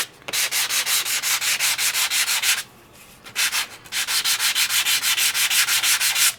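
Embossed paper rubbed with a buffing block, rapid rhythmic back-and-forth scratching strokes, loud and close, with a short pause midway before the strokes resume.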